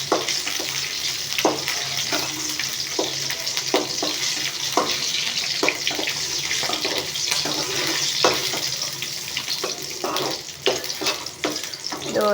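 Green chillies frying in a pan with oil, a steady close sizzle with scraping stir strokes and clinks for a Telugu okra pickle, with no talk.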